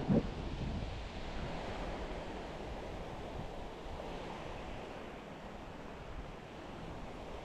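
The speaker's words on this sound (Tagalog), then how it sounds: "Lakas ng hangin, grabe" Strong wind roaring by the sea while fishing at Calatagan, Batangas, Philippines: a continuous loud broadband rush of gusts and surf buffeting the microphone, steady throughout with a brief thump at the start and no talk.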